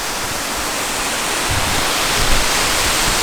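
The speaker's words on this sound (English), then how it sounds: "Got this massive swimming hole with this waterfall going into it." A waterfall pours into a large river swimming hole at Kempsey Blowhole, producing a loud, continuous broadband roar of rushing water that stays steady throughout.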